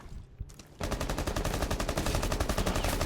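Rapid automatic gunfire in a first-person shooter game, a dense rhythmic burst of shots after a short quieter lead-in, loud and close with no talk.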